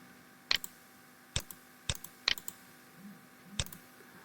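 Sparse, distinct keystrokes on a computer keyboard, about five or six crisp clicks spread irregularly over a few seconds, close and fairly quiet against a faint background hum.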